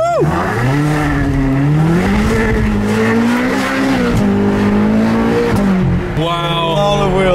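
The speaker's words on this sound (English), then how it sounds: "That was a lot of wheel spin." A powerful Apollo IE supercar engine revs hard as tyres squeal and spin, loud and close, sustained for several seconds.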